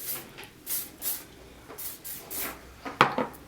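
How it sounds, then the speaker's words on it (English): Flat iron hair spray hisses onto a section of hair in several short, quiet bursts spaced irregularly, close up in a still room. "So I'm going to take this whole section and I'm just going to spray it."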